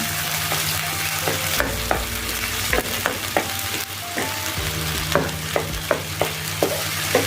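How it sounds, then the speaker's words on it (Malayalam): Onion and tomato fry in a pan while being stirred, a continuous sizzle with repeated sharp scrapes and taps of a spoon on the metal and a low hum underneath, and no voices. "ഇത് നന്നായി ഇളക്കി കൊടുക്കാം. നന്നായി മിക്സ് ചെയ്ത് കൊടുക്കുക."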